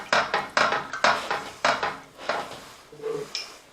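Cream soup is stirred into meatball sauce in a pan, heard as a run of rhythmic scraping and knocking strokes of a utensil against the pan, close and distinct, about seven strokes with a softer clink near the end, no speech.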